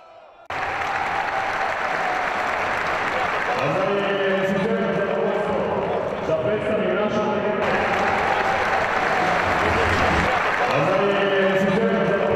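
A Belgrade crowd gives Dino Rađa a sustained ovation at a veterans' basketball match between Yugoslavia and the USSR. The loud, dense clapping and cheering fill the hall without a break after a brief quiet start.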